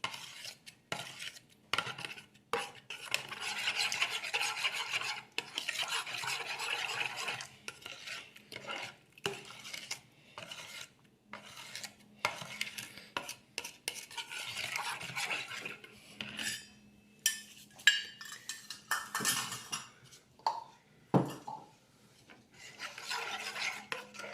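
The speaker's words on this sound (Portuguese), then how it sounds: "Vamos mexer até dissolver todo esse fermento. Mexer mais um pouco." A spoon stirs flour and yeast mixture in a pot, close and scraping in irregular strokes with clinks and rasping against the pot sides, going on for the whole stretch with no talk.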